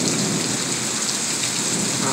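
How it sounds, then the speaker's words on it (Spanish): A heavy thunderstorm over a ranch in the mid-southern United States, with dense, loud rain pouring steadily on surfaces and thunder rumbling beneath it. "Está un tormentón muy, muy feo."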